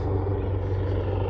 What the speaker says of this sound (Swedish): ni kanske inte orkar höra det här med värsta helikoptern i bakgrunden